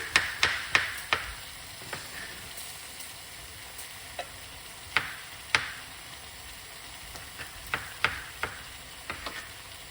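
Eggplant curry frying in a pan while being stirred, a soft steady sizzle punctuated by sharp clicks and taps of the utensil against the pan, irregular and close, with no talking.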